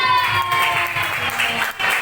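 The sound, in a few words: class applauding for Aska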